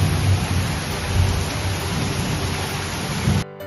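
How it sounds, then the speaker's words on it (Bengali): Heavy rain beating down with rolling thunder, a dense continuous wash of rainfall and low rumbles that cuts off abruptly at the very end. "বাইরেটা যেন এরকম কত জোরে বৃষ্টি পড়তে পারে।"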